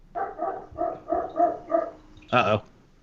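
A dog barks in a rhythmic series of six mid-pitched woofs, then lets out one louder, sharper bark, heard indoors at moderate distance.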